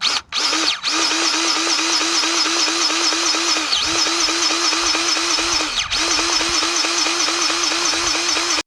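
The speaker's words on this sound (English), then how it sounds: "electric grease gun" An electric grease gun runs steadily and loudly close by with a pulsing motor whine, briefly cutting out twice, while servicing the fittings on a root grapple for a BX23s tractor.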